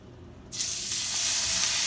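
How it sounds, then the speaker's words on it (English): Two steaks hit an oiled pan on high heat and a loud, crackling sizzle bursts in halfway through, then holds steady and bright to the end. "You definitely want to hear that sizzle once it hits the pan."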